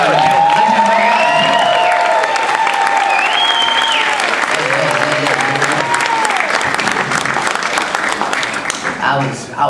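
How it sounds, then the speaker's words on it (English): A big crowd claps and cheers steadily, with whoops and shouts rising over the dense applause throughout. "y'all make some noise for y'all headline, Mr. Paul Mooney, y'all."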